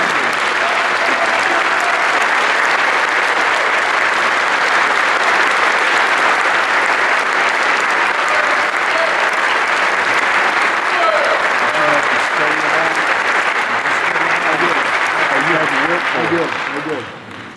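Sustained, loud audience applause at a cadet Gold and Silver Star ceremony, a dense unbroken wash of clapping that carries on steadily before tapering off at the end.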